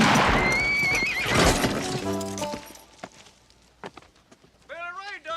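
A horse neighs and whinnies loudly amid hoofbeats and a commotion in a Wild West film scene, with a clear whinny rising near the end over quieter background.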